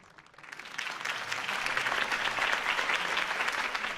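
A crowd breaks into sustained applause at a political campaign rally in a Batman video game, the clapping swelling in over the first second and holding steady and dense to the end.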